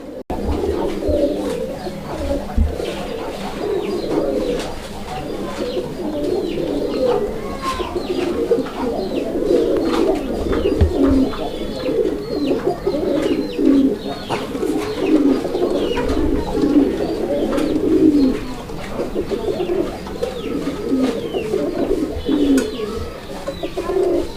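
Raja-golla pigeons on a farm coo continuously in low, rolling, throaty calls, close and fairly loud, with slight shuffling in the background.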